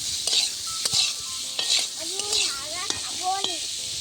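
Boiled potatoes fry in a pan with salt and turmeric, a steady sizzle with scraping and stirring clinks of a utensil against the pan, close by.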